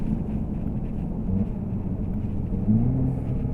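A 2013 Jaguar F-type with a 3.0 litre V6 drones in a steady, loud low rumble after being knocked down a couple of gears, swelling slightly near the end, with wind and road noise throughout.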